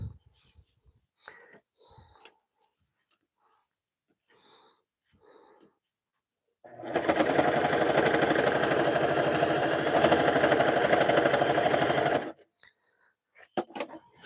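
A sewing machine runs steadily for about five seconds while stitching a jelly roll rug made of fabric strips and batting. It is loud and continuous and sits between short stretches of quiet talk.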